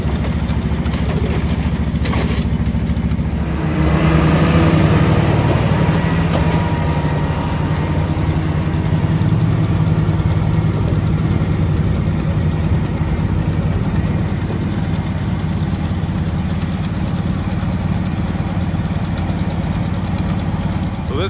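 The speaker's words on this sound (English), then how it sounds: "So this is the fluffer. Just has some tines and it spins." A tractor engine runs steadily near a hay fluffer with spinning tines during wheat harvest, a loud continuous rumble that grows louder after a few seconds, with faint speech underneath.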